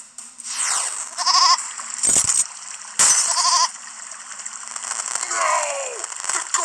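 A goat in a glitchy video game bleats among harsh, crackling digital bursts and sweeping noises, loud and close.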